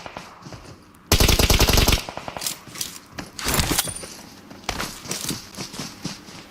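Rapid automatic gunfire bursts in a battle royale video game match, loud and close for about a second, followed by scattered, fainter shots and clatter through the rest of the clip.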